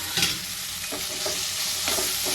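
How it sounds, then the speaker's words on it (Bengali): Finely chopped tomatoes hit frying spices of coriander powder in a pan, a loud continuous sizzle with scraping stirring strokes throughout, no voices. "টমেটোটা দিয়ে দেবো"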